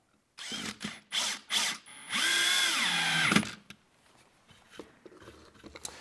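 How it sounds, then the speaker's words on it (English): A power drill drives screws into a plywood pivot block for a shop-built belt sander: three short bursts, then one longer whirring run with a rising pitch that ends in a sharp catch, followed by faint shop rustle. "That starts with this pivot block that I just screwed in place."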